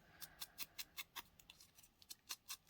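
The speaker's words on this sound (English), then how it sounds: "I'm going to scuff these edges up a little bit" Scissors blades scrape along the edges of ribbon in a quick, regular series of soft, close scuffing strokes, quiet and without talk.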